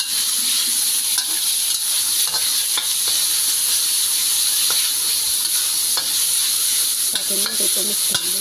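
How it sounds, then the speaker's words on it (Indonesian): White tofu stir-fried in a pan, a steady loud sizzle running throughout with occasional scraping stirs of the spatula, close and continuous with no voices. "tahunya ditumis dulu"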